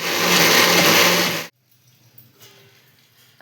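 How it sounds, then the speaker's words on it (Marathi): An electric mixer grinder whirs loudly as it blends soaked lentils and rice with ginger, garlic, coriander, chilli and peas into a batter for tricolour appe, running steadily for about a second and a half before cutting off to near silence. "या सर्वांची पेस्ट करून घेऊया."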